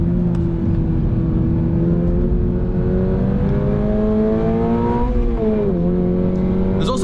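A 2024 Subaru BRZ tS sports car engine revs on a track, a loud continuous in-car drone climbing in pitch, briefly dipping as the driver shifts, then rising again.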